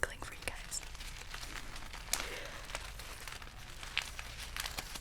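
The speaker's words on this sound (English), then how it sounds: "Here's a little bonus crinkling for you guys." Packaging crinkled softly during an ASMR unboxing, faint close rustling with a few brighter crackles, under a quiet whispered voice.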